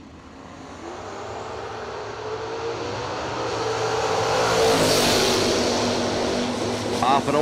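A 1967 Chevrolet Camaro drag racing car launching at a drag strip, engine roaring louder as it pulls away, with an announcer's voice over the noise.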